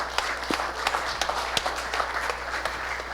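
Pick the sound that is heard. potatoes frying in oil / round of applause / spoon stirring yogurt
round of applause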